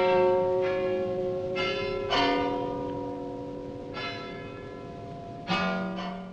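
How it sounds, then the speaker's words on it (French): Carillon bells ring out from a belfry in a slow melodic sequence, several tuned strikes overlapping with long, shimmering decays, fairly close and clear with no voices. "ce carillon et ce beffroi."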